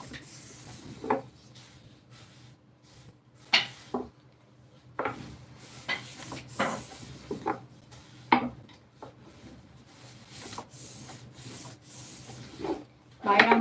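Baklava dough rolled out on a wooden board, quiet intermittent rubbing and knocking strokes at an irregular pace, close by in a home kitchen with faint room noise.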